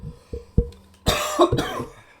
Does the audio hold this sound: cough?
yes